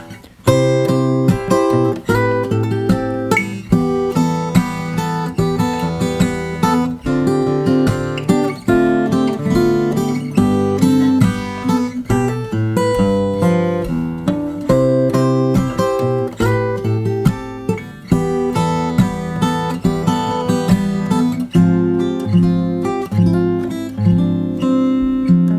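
Steady fingerpicked acoustic guitar plays the verse of a song for about twenty-five seconds, with bass notes and melody interwoven. Close, full and even, with no voices.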